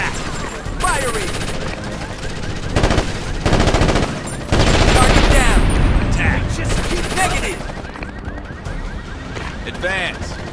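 Dense gunfire in the tactical shooter Ghost Recon Advanced Warfighter, sustained automatic bursts and overlapping shots that swell and fade continuously, with shouted voices mixed through the battle.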